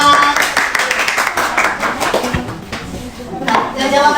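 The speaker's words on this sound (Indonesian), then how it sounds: "Berikan aplaus untuk kelompok 4" Classroom applause for a student group presenting its work, a dense wash of many hands clapping at close range that runs steadily throughout, with some clattering knocks mixed in.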